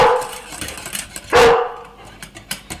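A dog barks excitedly in a home kitchen while hollandaise sauce is made, a few loud close barks and yips with one strong burst in the middle.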